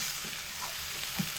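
Salt, turmeric and chilli powder fry on medium heat for a broiler chicken curry, giving a steady, soft hiss with faint stirring scrapes and no voices.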